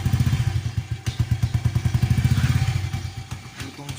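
A Chinese motorcycle fitted with an Apido chicken pipe exhaust idles close by, its loud, throaty pulses thumping in a fast, steady rhythm.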